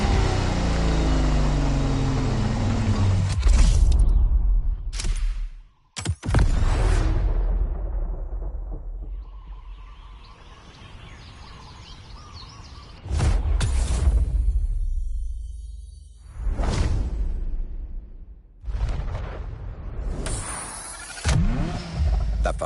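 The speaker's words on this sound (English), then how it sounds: "The Ferrari F40. Enzo Ferrari's ultimate vision." Ferrari F40 engine in The Crew Motorfest racing game, loud revving bursts and roaring acceleration with sharp cutoffs, separated by quieter lulls of idle engine drone, no talking.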